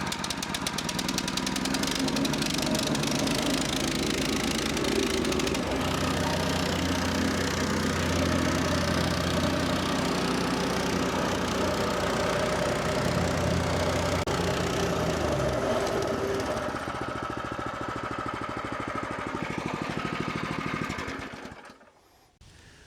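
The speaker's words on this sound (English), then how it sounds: "Well, the plate compactor started up." A small gasoline engine on a plate compactor runs steadily after a pull start, a continuous mid-pitched chugging hum for about twenty seconds before it cuts off abruptly near the end.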